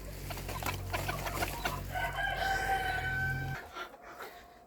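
Hens cluck and scratch around a manure heap in a backyard poultry yard. A steady run of close, busy clucking and fowl calls fills most of the stretch, then drops off sharply near the end.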